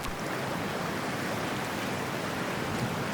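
A diver plunges into freezing water in Cyberpunk 2077, a steady rushing wash of churning, bubbling water that fills the whole moment at constant volume.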